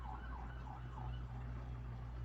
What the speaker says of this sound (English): I swear those sirens aren't for me.